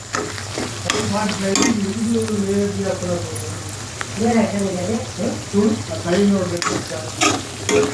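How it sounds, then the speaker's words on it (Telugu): Prawns frying in oil give a continuous sizzle with stirring scrapes, while a person talks over much of it. "అంత ఆయిల్లో ఫ్రై అవ్వాలన్నమాట."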